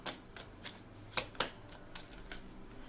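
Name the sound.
shuffling tarot cards to draw advice cards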